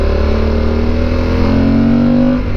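Yamaha Super Tenere motorcycle engine pulling through its gears, a loud, close, continuous drone whose pitch climbs steadily as it accelerates, with no voices.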